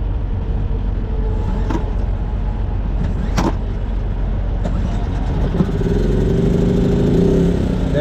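A small portable generator, used as an APU on a semi truck, rumbles loudly and continuously at close range, with a few sharp clicks and knocks breaking through its steady drone.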